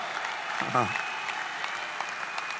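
Applause from an audience at a sales and motivational talk, broad and steady through the whole stretch, with a brief voice rising above it near the start.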